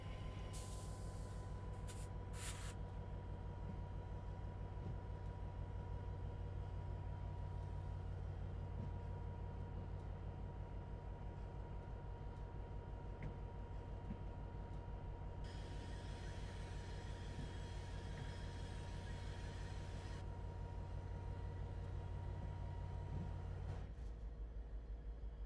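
An MP36 locomotive rumbles steadily at slow speed in Train Sim World 5 on the San Bernardino line, with a deep continuous engine drone, a brief clank at the start, a hissing layer midway and a sudden drop near the end.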